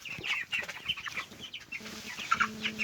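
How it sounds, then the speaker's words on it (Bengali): Backyard chickens at feeding time as food and water are set out, clucking and squawking close by in quick, irregular bursts, with a higher-pitched call near the end. "সারাদিন পর বাড়িতে এসে এখন মুরগিকে পানি এবং খাবার দেওয়া হবে।"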